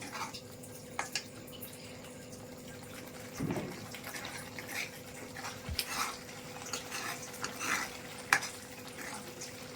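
Tomato sherva cooks in oil in a pan with a faint, soft bubbling sizzle, occasional light clicks and a brief stir, quiet and close.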